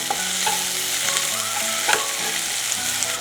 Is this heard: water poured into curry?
no